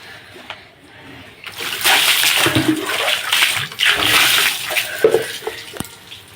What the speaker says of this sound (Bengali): দেখো আমি এই যে স্নান করছি।